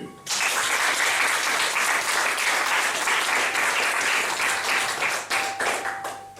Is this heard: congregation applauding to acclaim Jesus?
yes